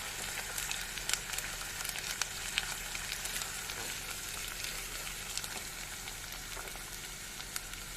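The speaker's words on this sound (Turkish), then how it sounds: "İnce kavrulan soğan ve kıymamıza bir yemek kaşığı salçamızı ekleyelim. Kavuralım." Onion and minced meat sautéing with a spoonful of tomato paste in a pan, a steady dense sizzle running the whole time with faint scrapes of stirring.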